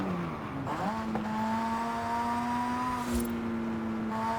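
A Mazda RX-7 in Forza Horizon 5 holds a steady high rev after a quick rise and drop, with a brief second blip near the end, heard on its own without talk.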